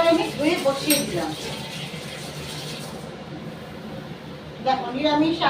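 A washed wok is set back down on a stove in a home kitchen, giving a metallic clank near the start and another near the end, with steady low kitchen background between.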